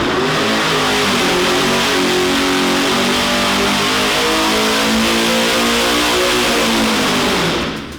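A ProCharger F-1A-94 supercharged 427ci LSX V8 roars on a dyno, loud and sustained, its pitch climbing steadily through a long pull before cutting off at the end.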